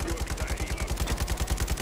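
Rapid automatic gunfire from Modern Warfare 3, a fast, even burst of loud, close shots repeating steadily for nearly two seconds without pause.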